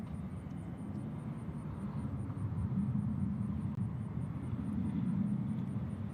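An American airliner takes off from a runway at Nashville International Airport, heard as a faint, distant, steady jet rumble that swells slightly, with no talking.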